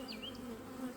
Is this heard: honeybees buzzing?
yes